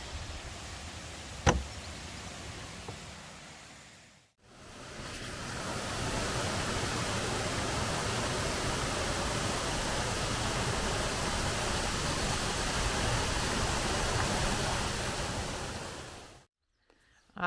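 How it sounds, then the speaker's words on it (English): A waterfall beside a campsite in Shaw Ghyll Wood, Yorkshire, gives a loud, close, continuous rushing roar. A quieter stretch comes first, and the sound cuts out briefly twice. "So we have our own on-site waterfall for the campsite, Shaw Ghyll Wood."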